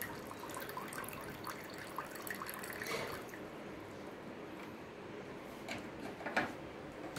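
Quiet water trickling and splashing out of a Bosch washing machine's drain hose, a soft continuous flow with occasional drips and light clunks.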